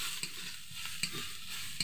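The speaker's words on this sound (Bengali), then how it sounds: "এবার এটাকেও ভালো করে ভেজে নেব" Spices with turmeric fry in a pan, a soft continuous sizzle punctuated by three sharp spatula scrapes, fairly quiet and close.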